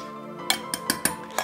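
A spoon scoops a rice filling from a bowl into a cloth bag, giving five sharp metallic clinks at a steady, uneven pace, close by with no voices.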